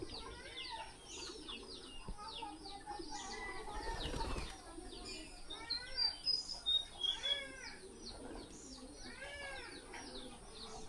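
Racing pigeons gather for feeding, giving soft coos and chirps with occasional wing flaps, quiet and close, with a brief rustling burst midway.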